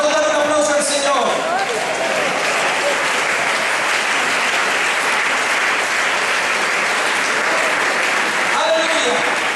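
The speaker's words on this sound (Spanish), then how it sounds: "¿Cuánto dan un aplauso al Señor?" A church congregation claps in a sustained burst, dense and steady after a brief opening with a voice, then a few voices return near the end.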